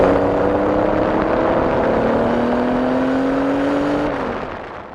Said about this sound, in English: The two were driving a street-legal 2-seat race car.